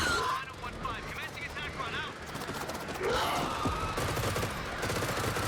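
Air support lays down gunfire in House of Ashes: rapid bursts of automatic fire under excited voices and gasps. The fire is heaviest in the last two seconds.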